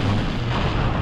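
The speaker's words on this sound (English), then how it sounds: "He launched a rocket at those zombies" The Nemesis boss in a fan-made Resident Evil game fires a rocket, giving a loud, heavy low-frequency blast that rumbles steadily for a moment.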